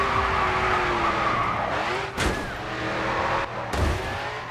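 A car crash in the Grid 2 racing game: a continuous roar of engine and squealing, skidding tires, broken by two sharp impact thumps, loud and with no voices.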